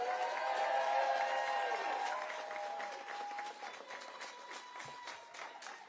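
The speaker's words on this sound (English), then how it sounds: "Let's give a giant round of applause for Senator Tammy Baldwin." Audience applause and clapping for a senator at a victory speech event, steady and fairly distant, gradually thinning out over several seconds with no talk over it.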